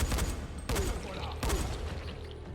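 Gunfire in the zombie game Dying Light, rapid crackling shots and bursts over a dense, constant game soundscape, fairly loud and continuous, with no clear speech.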